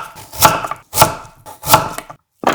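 A knife slices through kohlrabi in 0.5 cm thick pieces on a cutting board, making three distinct, fairly loud chopping strokes at a steady rhythm, each a crisp crunch followed by a brief pause.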